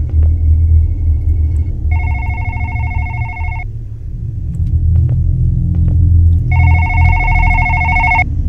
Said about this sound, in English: let's go and get this phone.